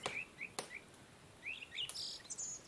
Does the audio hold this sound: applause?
no